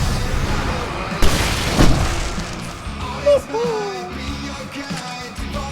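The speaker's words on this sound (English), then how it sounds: "I can set off more of the fireworks from here and help you out!" Fireworks bursting in the Alan Wake video game, with a few loud booming blasts and crackles spread across the scene while a voice shouts nearby.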